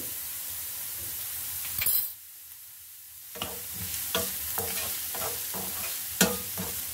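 Sliced onion with salt cooks in a pan over low heat, giving a soft continuous sizzle broken by a brief lull and punctuated by sharper stirring scrapes.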